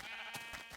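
Sheep in the Minecraft video game bleat in short, faint repeated calls, three or four brief bursts in quick succession with no talking.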